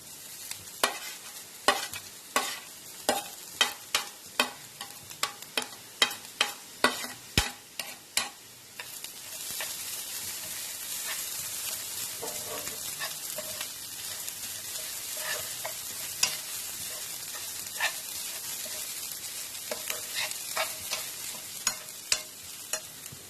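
Grated coconut stirred into onions frying in a pan for Tamil kara paniyaram, with sharp spatula scrapes and taps over a steady close sizzle, the stirring busier at first and then easing to occasional clicks.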